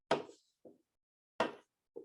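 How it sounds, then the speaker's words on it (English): A ball knocked around inside a container of liquid nitrogen, giving two pairs of hollow knocks, each a louder hit followed by a softer bump, close and isolated against silence. "You might even be able to hear the ball as I knock it around."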